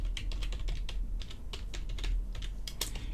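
Fast, steady keystrokes as code is typed on a computer keyboard, each click crisp and close, with no talking.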